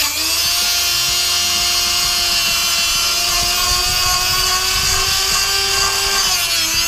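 A power tool cuts a screw to length for a homemade lug nut key, giving a steady, loud, high-pitched grinding whine that holds unbroken for about seven seconds with no talking.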